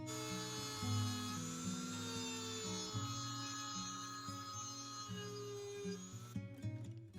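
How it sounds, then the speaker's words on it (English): A rotary multi-tool with various attachments shapes a replacement wooden trim piece during furniture restoration, giving a steady high whine with a shifting pitch that runs almost the whole time and then breaks off into rougher bursts near the end. "I used several attachments on my multi-tool to get the shape of this replaced piece match the rest of the trim"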